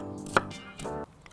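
A kitchen knife chops ingredients for seafood pasta into small, uniform pieces on a board, two or three crisp, close knocks separated by short pauses.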